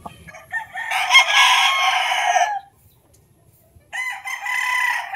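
Gamefowl stags of imported lines crow loudly and close at a game farm, one long crow followed by a pause and then a second crow.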